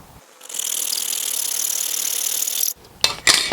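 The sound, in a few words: hacksaw cutting through garage door weather stripping molding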